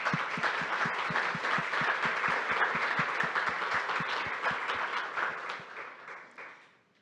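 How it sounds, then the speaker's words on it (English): A room of attendees at a startup accelerator demo day applauds the peer mentors, with a steady mass of clapping and a few sharp, rhythmic claps cutting through before the applause tapers off and fades to silence. "we'll give you a round of applause"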